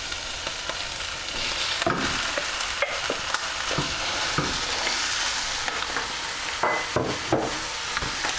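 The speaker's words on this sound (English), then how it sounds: "I want to make sure this beef is brown all over, so maybe 7 or 8 minutes to cook that through." Ground beef browning with garlic in a hot pan, a steady loud sizzle with frequent scraping stirs of a utensil, close up and without talk.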